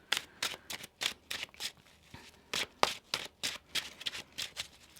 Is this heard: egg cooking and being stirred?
no